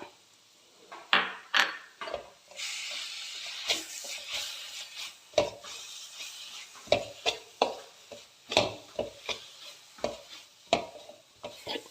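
Crushed ginger, garlic and green chilli frying and being stirred in a pan while making chicken masala, with a soft sizzle under repeated sharp scrapes and clinks of the spoon against the pan, close and irregular.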